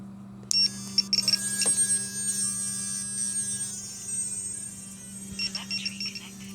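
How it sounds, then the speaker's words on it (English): High electronic tones chirp and beep intermittently from FPV drone electronics over a steady low electrical hum, fairly faint and close. "Weird beeping noises."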